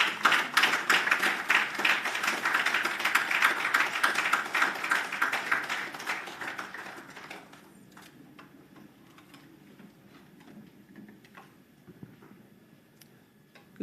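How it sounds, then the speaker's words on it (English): A lusty round of audience applause for a speaker at a women's trade event in Lagos, loud dense clapping for about seven seconds before it fades to a quiet room with scattered small noises. "a lusty Lagos round of applause for Miss Ahuna Eziakonwa"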